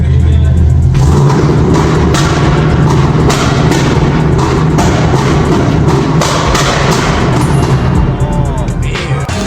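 Very loud car engine roar close by at a snowy car meet, rumbling and popping in rapid bursts as it revs hard, with sharp crackles and a deep throbbing low end.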